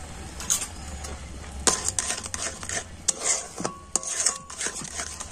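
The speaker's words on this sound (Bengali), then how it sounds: "তো এখন আমি তালের পাল্প আর চিনিটা কিন্তু একটুখানি ফুটিয়ে নেব।" A spoon clinks and scrapes against a pot as palm pulp and sugar cook, with soft bubbling and sizzling underneath and uneven metallic taps scattered throughout.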